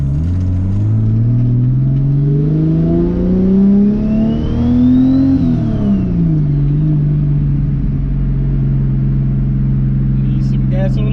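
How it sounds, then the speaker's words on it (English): A Lexus SC300 with a 2JZ engine and BorgWarner T51R turbo pulls hard, its loud exhaust drone climbing steadily in pitch, peaking, then dropping back to a deep, rumbling cruise. "So I'm gonna do just a couple quick pulls for you guys"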